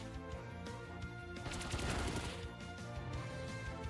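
A burst of rapid repeated impacts from a Pin Missile attack in Pokémon Let's Go Eevee, a short loud flurry rising out of steady game music and fading again.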